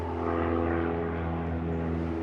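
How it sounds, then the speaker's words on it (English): Small propeller planes drone overhead in an urban setting, a steady, faint, distant hum lasting throughout with no talking. "There are a lot of small planes and helicopters going overhead."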